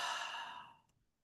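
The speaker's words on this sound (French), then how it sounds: "inspire par le nez, expire par la bouche" A soft, close exhale through the mouth as the tail of a slow breath in through the nose and out through the mouth, fading gently into silence.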